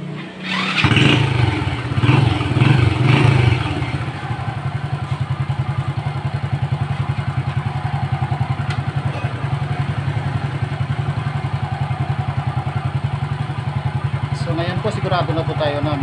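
A motorcycle engine starts with a brief clattering crank, revs, then settles into a steady, loud idle that runs throughout; someone talks over it near the start.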